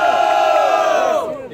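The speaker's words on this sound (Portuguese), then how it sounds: "Quem achou melhor as rimas de FL, faça barulho" A rap battle crowd lets out a loud, sustained shout of cheering that swells and then tapers off, close and dense.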